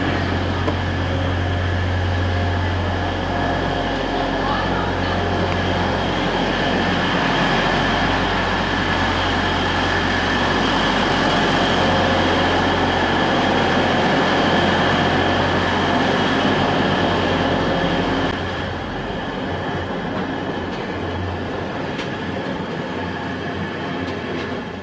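A train pulls into Hartlepool station with a steady loud rumble, low engine drone and rail noise lasting throughout, easing slightly near the end, with no talking.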